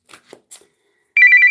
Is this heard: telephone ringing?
yes